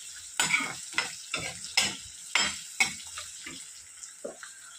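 Onions frying in a pan for coconut chutney, stirred in repeated sharp scrapes about every half second over a steady bright sizzle, close and alone without voices.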